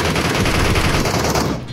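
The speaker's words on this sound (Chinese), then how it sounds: "枪声，敌人正在杀 boss" Rapid automatic gunfire from a PUBG-style shooter game, a dense continuous burst of shots that fills the whole stretch at steady loudness before trailing off at the end.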